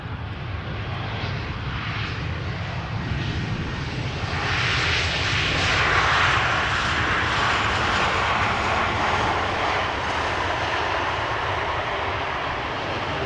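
A brand-new airliner arriving at Amsterdam Schiphol Airport, its engines a steady broadband roar that swells gradually as it passes close, then holds at a loud, even level with no talk over it.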